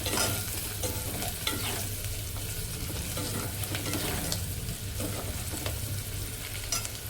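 Ridge gourd and mutton pieces fry in a pan with a dense, continuous close sizzle and occasional stirring scrapes, with no voices.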